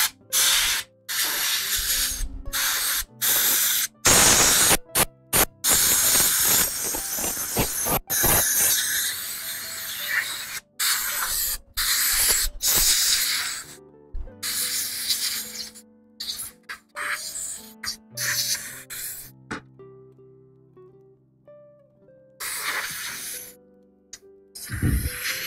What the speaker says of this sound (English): Got a compressed air. I'm going to go give the motherboard a shot outside there. Clean it up best I can.